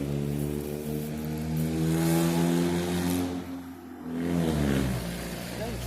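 Pickup truck engine revving up and down in a mall parking area, the rising and falling drone loud and steady for several seconds with a brief dip near the middle, a voice talking over it.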